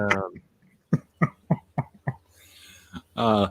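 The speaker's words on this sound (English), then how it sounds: "The old men are coughing on live stream." A run of about six sharp, chesty coughs in quick succession, with brief voiced sounds before and after.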